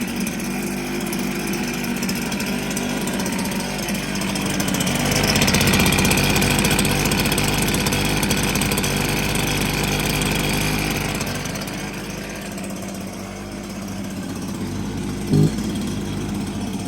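An Echo two-stroke leaf blower engine runs continuously at close range, a buzzy, rattling drone that swells louder midway before settling back.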